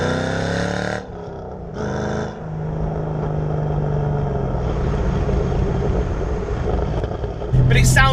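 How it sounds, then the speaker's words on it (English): Ford Mustang Bullet tribute car engine rumbles and revs as it runs through gears, a deep steady drone with a throttle blip near the end, while someone talks over it. "But it sounds like a proper pony car."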